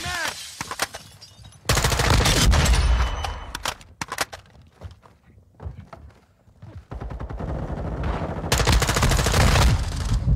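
Long bursts of rapid automatic gunfire crackle in a video game shooter, separated by brief quieter gaps with scattered single shots. A voice comes through faintly under the gunfire.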